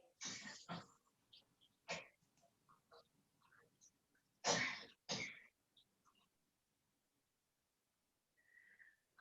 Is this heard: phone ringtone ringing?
no